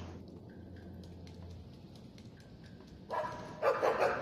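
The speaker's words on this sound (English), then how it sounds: "If you enter the awareness area of a dog, they will instantly start barking and raise the alert of all nearby guards." Dogs bark in the stealth game Assassin's Creed Chronicles: China, a few short, sharp bursts near the end rising over a quiet ambient game backdrop.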